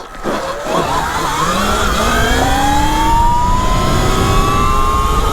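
A 10 kW electric bike launches hard from a race start, its motor whine climbing steadily in pitch as it accelerates. The sound is loud and continuous, with no talking.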